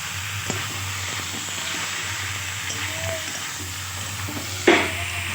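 Meat frying and being stirred in cooked spice paste in a pan, a steady close sizzle with scraping stirs and a sharp burst of crackle near the end, no talk.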